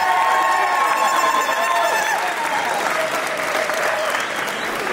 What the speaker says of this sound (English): I'd like you guys to give a round of applause to yourselves for being here.